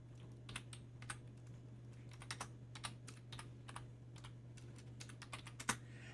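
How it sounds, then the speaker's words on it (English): Fingers tap equations into a calculator keypad with quick, light clicks in irregular bursts. The clicks are quiet and close, over a steady low electrical hum. "I'm going to type in both original equations."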